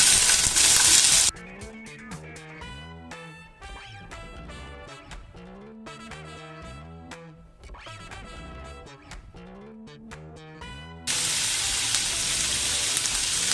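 Chopped onions fry in hot oil in a pan for Maharashtrian usal pav. A loud, steady sizzle opens and closes the clip, and background music plays through the middle.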